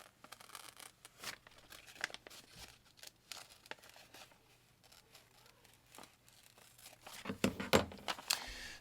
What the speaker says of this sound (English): I reset the scissor blade and continue that cutting